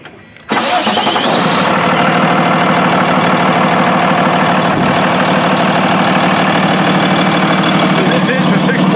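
A 6.7 liter turbo diesel engine in a 2018 Elkhart custom bus cranks and catches, then settles into a loud, steady idle with a dense clattering rumble that continues to the end.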